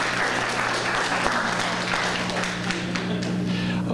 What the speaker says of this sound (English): So a round of applause for Commissioner Hines